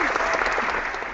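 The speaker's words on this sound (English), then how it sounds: "can start it off with a round of applause" Studio audience applause breaking out at the start of a comedy show, dense steady clapping throughout a short burst, moderately loud with no talk over it.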